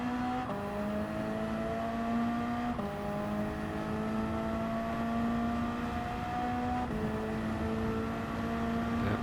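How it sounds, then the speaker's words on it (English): Ford Mustang race car in Gran Turismo 7 at Brands Hatch, its engine droning steadily as it accelerates down a straight, pitch climbing through each gear with two brief shift breaks, loud and continuous with no talk. "And this is where the Mustang is going to start to gain down this straight."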